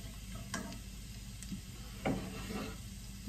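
Garlic mashed into butter sizzles gently in a pan, a faint crackle punctuated by a few stirring and pressing knocks, without talking.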